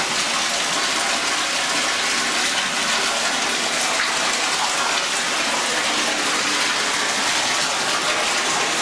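A loud, unbroken rush of water pours from a pipe at the end of a tunnel in the flooded Oak Creek Mine. The splashing torrent stays close and constant throughout, with no talking.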